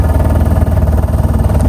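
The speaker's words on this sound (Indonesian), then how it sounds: "Nah ini kohai mau nyandarin kapal." Boat engine chugging close by as a vessel is brought alongside to moor, a steady low rumbling throb with slight clatter and no speech.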